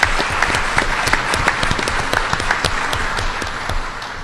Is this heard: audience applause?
yes